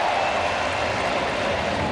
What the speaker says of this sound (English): the crowd is cheering for it now